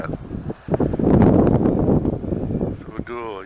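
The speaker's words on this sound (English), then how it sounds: "Holy smokes, it's blowing 40 miles an hour out here, I bet." Strong wind of roughly 40 mph buffets the microphone on a 2018 Honda Goldwing DCT Tour motorcycle during a ride, a loud continuous roar and rumble with no gaps.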